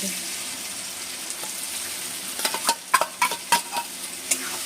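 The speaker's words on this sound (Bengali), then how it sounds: "যে আমি কাজু আর কি চাল মগজ আর দই আর পোস্ত দিয়ে যেটা মশলা রেডি করেছিলাম সেই মশলাটা দিয়ে দিচ্ছি" A spice paste of ground cashew, melon seed, yogurt and poppy seed fries in a pan for a potol kofta curry, giving a steady close sizzle, with a cluster of scraping stir strokes in the second half and no talk.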